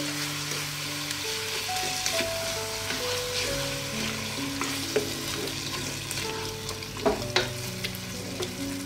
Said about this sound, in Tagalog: at ang tomato sauce. Haluin lang natin sandali.